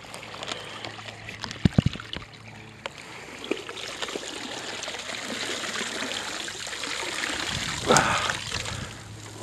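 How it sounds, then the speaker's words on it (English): Water splashes and trickles as a bag hooked while bass fishing with a double fluke rig is lifted from a lake, with gurgling and dripping throughout, a brief louder splash near the end and a few faint knocks. "Let the water drain out."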